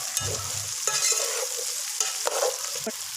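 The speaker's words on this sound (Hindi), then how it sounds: "भिंडी को हमने 3 से 4 मिनट इस तरह फ्राई करना है।" Okra (bhindi) frying in an oiled pan, a bright steady sizzle close by with short stirring scrapes and knocks breaking through at intervals, no talking.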